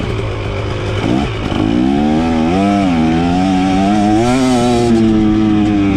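A 2023 KTM motorcycle engine with 70 hours of use and a recurring failure revs loudly and steadily close by. The pitch climbs and wavers through repeated throttle blips, with no talk over it.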